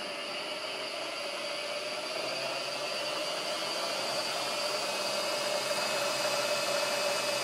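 An MSC Vectrax 3-axis CNC mill with an R8 spindle on an inverter drive runs at 1750 RPM, a steady high whine with faint motor hum, constant and unbroken.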